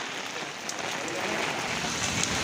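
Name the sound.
heavy rain during Cyclone Remal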